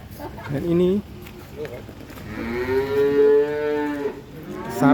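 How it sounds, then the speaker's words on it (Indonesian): Cattle at a farm in Wonogiri raising animals for Qurban sacrifice, with a long, loud, close moo and shorter lowing calls. Chickens cluck and people murmur in the background. "sapi-sapi super dari Sapipedia Wonogiri dalam kesempatan sore ini"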